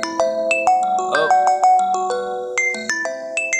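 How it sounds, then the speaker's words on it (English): An incoming call's phone ringtone plays a bright, bell-like electronic melody of quick, repeating notes, loud and clear with nothing else over it. "Got a phone call here."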